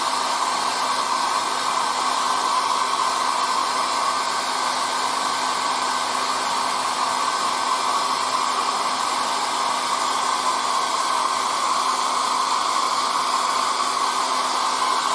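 A hair dryer blows steadily to dry decals on a Whippet scale model, a loud, constant whooshing hum running unbroken and close throughout, with no voices.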